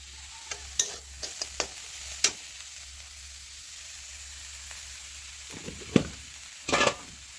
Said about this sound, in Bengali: তো আমি যে কড়াইটাতে তেল দিয়ে দিচ্ছি কারণ এখন আমি ফুলকপিগুলোকে